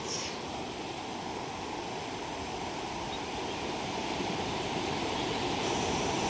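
Sea waves wash onto the shore at Vela beach during a fishing outing, a continuous broad rushing roar that builds slightly louder toward the end, with no voices.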